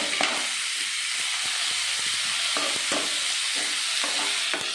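Onion and tomato fry together for a Tulu-style squid sukka, making a dense, continuous sizzle with faint scraping and stirring knocks close by.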